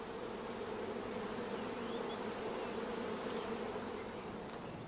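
A steady, droning hum of many honeybees buzzing together in a hive holding a shook swarm, constant and close, with no other sounds.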